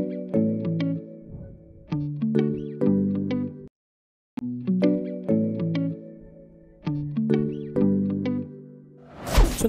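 Afrobeat beat built in FL Studio, pairing a Chromaphone marimba pattern with a guitar sample, plays as a steady rhythmic loop of plucked tonal notes, with a brief gap midway and a noisy swell at the end.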